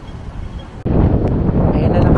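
Strong typhoon wind gusts buffeting the microphone on a Hong Kong street during a Signal No. 8 storm, a steady low roar that jumps louder and harsher partway through and stays loud, with no speech over it.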